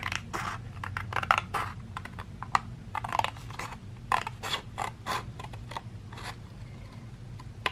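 Scissors cutting card along a scored line for a handmade birthday card: a close series of crisp snipping and creaking crunches, irregular in rhythm, over a quiet low background hum.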